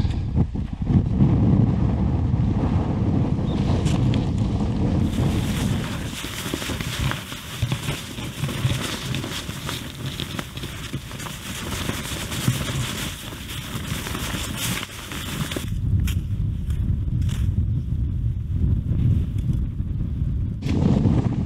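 Strong wind of about 10 m/s during a snowstorm, buffeting a tent on a multi-day ski trek in the Muotkatunturi wilderness: a continuous loud roaring rush with gusty swells, close and steady throughout, no voices.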